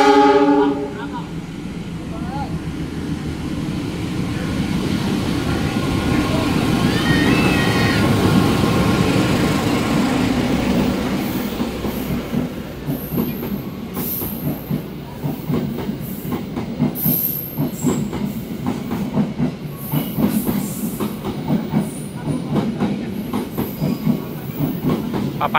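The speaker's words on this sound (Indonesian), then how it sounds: "kereta api melintas langsung tadi di jalur 4 dari arah timur kereta api Papandayan" The Papandayan train, a premium executive panoramic service, runs straight through track 4 of a busy Jakarta station from the east, a loud sustained roar with steady wheel clatter and faint squeals, no voices.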